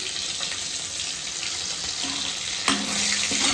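Frying in fish oil seasoned with salt and turmeric, a continuous close hiss and sizzle that swells slightly louder near the end, with no talking.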